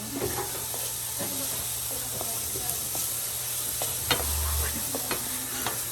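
Apple frying in a pan, a steady sizzle with a low hiss and occasional clinks of a utensil stirring, close and continuous.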